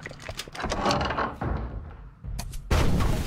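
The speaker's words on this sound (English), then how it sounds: "I haven't really seen a whole lot of exploding barrels in the game." Exploding barrels in the video game DDO, a cluster of sharp booming blasts and thuds, loud and close, several bursts in quick succession with a heavy final boom.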